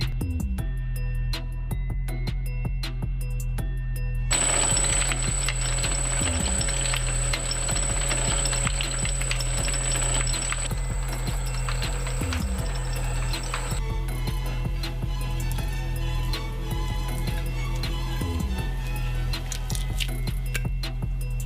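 Heavy mechanical grinding and crunching from shredder blades crushing a plastic toy spider, loud and continuous, with a high whine through the middle and repeated clicking ratchet-like knocks.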